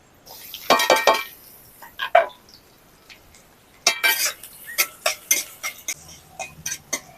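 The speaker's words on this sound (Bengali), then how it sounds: "পেঁয়াজটাকে আমি হালকা করে ভেজে নিয়েছি" A spatula clinks and scrapes against a pan in bursts of irregular taps while chopped onion and green chili fry, with the stirring sounds close and sharp between short quiet gaps.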